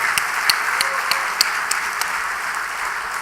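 A church congregation applauds together during a Sunday worship service, steady dense clapping from many hands filling the room with a few sharper individual claps standing out.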